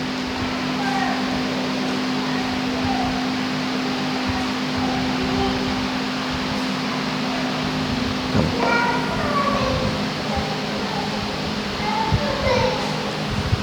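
A cat meows a few times in an indoor religious lecture room, the short cries fairly faint beneath a steady fan-like hum and some background voices.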